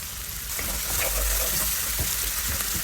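Garlic and stone-ground onion frying in oil, a steady broadband sizzle that swells slightly after the first half second and holds, with faint stirring knocks underneath and no talking.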